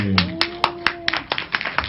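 Scattered claps and hand slaps ring out in uneven bursts at a cinema proposal event in Suwon, with voices mixed underneath and a brief tone near the start.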